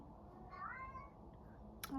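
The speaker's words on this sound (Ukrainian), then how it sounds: "Це ви кота чуєте, вітається з вами." A house cat meows once, fairly close and clear over a quiet room, then a brief rustle follows near the end.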